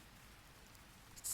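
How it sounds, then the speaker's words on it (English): Steady, soft rain falling with a gentle, even hiss and no voices, heard close and continuous through a short stretch. "and the rain will stay"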